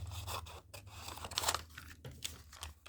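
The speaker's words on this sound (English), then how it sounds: "I'm just going to loosely cut it out first" Scissors loosely cut out paper collage material for a greeting card booklet, a close, quiet series of crisp snipping and crinkling cuts in irregular rhythm with short gaps, heard without talk.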